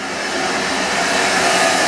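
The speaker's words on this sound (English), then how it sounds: "She's vacuuming the garage." A vacuum cleaner running steadily in a garage, a continuous close, loud motor whine and airflow roar that holds level throughout with no talking.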